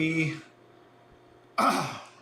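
A voice trails off, then after a pause comes a single harsh throat-clearing cough, close and loud.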